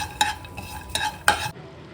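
Poppy seeds roast in a pan for a namkeen mixture, three scraping strokes of a spoon stirring them over a faint sizzle, close, then the sound cuts off abruptly.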